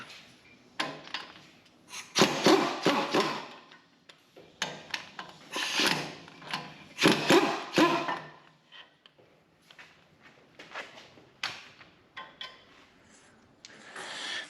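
Close-up ratcheting and clicking as 17mm brake caliper bolts are loosened on a 1993-2024 Toyota 4x4 SUV, in uneven bursts of metallic ticks and scraping with short pauses between.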